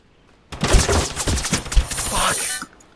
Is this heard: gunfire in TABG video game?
yes